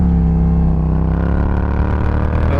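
A motorcycle accelerates hard on the throttle during a fast commute, loud and close, the engine note steady and droning with its pitch rising slightly over a couple of seconds.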